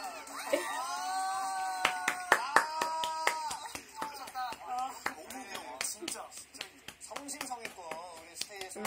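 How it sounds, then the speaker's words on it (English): Hands clapping repeatedly in sharp, uneven bursts, close and crisp, mixed with singing and people talking. "I'm not gonna stop clapping."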